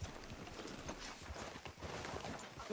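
Horse hooves clip-clop steadily at a walk in Red Dead Redemption 2, a continuous near rhythm of soft thuds layered over faint ambient outdoor noise, with no talk.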